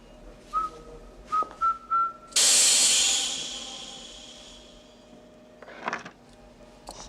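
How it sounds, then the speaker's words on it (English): A few short whistled notes come first, then a sudden loud burst of stun gas hisses from Q's whistle-activated gadget and fades slowly over several seconds, close and alone, with faint rustling after. "Stun gas."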